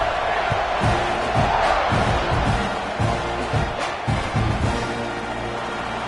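Football stadium crowd roaring after a touchdown drive, a dense sustained wall of cheering with rhythmic thumping and shouts, loud and continuous throughout.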